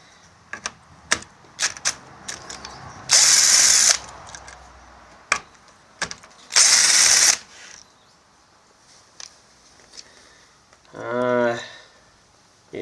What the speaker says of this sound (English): So loose them off with the drill.